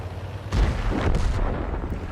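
A tank gun fires in World of Tanks, a loud deep boom with a rumbling tail that fills most of the clip.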